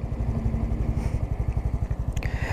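A Honda Biz 125 motorcycle fitted with a Dory exhaust runs at night, its engine throbbing in a fast, even pulsing beat close by, with a brief rev swell near the end and no voices.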